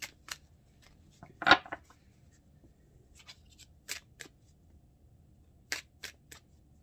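Romance Angel Oracle cards are handled in a quiet room, giving sparse crisp riffling and flicking snaps, a few short bursts spaced across the stretch with silence between, no speech.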